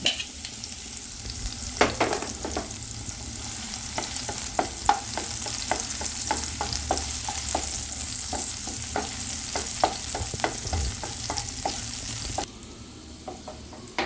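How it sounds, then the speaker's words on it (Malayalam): Ginger, garlic and green chili sautéing in butter make a steady close sizzle, with a run of sharp stirring clicks from a utensil against the pan; no one speaks. "അടുത്തായിട്ട് ഇഞ്ചി, വെളുത്തുള്ളി, പച്ചമുളക് എന്നിവ വഴറ്റാനായിട്ട്"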